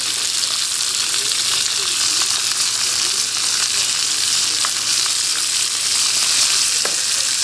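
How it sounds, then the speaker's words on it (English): Food sizzles steadily in a hot pan, a constant crackling hiss with occasional sharper pops. "And you can hear it sizzling from me doing that."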